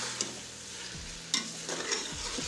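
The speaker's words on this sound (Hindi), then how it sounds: "और इसको करेंगे अच्छी तरीके से मिक्स" Tendiayan meat sizzles softly in a pan while being stirred, with a few distinct scrapes of a spoon across the metal over a steady frying hiss; no talking.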